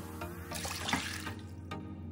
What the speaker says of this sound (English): Pour 4 cups of water into a pot.